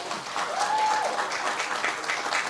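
An audience applauds steadily for a woman honored at a community event, a dense, sustained clapping that fills the room from start to finish with a faint whistle-like tone rising briefly partway through.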